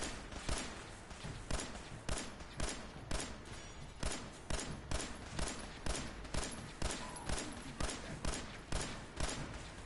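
Steady rhythmic gunfire aimed at a knight in Fallout 4, evenly spaced heavy shots repeating about once per half second, loud and close throughout.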